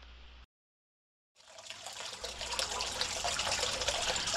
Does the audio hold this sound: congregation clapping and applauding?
no